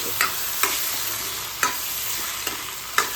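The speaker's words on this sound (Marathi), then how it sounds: "मध्ये मध्ये चेक करून हलवत राहायचं, नाहीतर खाली करपू नये म्हणून." Tomato chutney being stirred in a pan on low gas, with soft scraping strokes every half second or so over a gentle continuous sizzle, close and alone.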